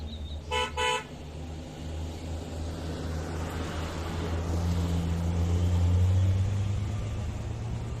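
Grumman van on new tires during a test drive: a steady road rumble and engine drone swelling gradually louder, preceded by two short horn toots at the start.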